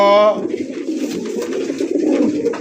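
Baghdadi pigeons coo in low, steady murmurs close by, preceded by a brief tonal call at the start, with a busy background hum throughout.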